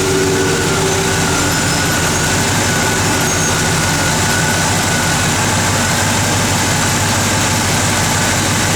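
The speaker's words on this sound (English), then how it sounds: "Go ahead and fire it up, Jordy. Again, good running small block." A 1972 Chevrolet Chevelle SS small-block V8 runs steadily at idle, a loud, continuous low rumble with no breaks and no one speaking.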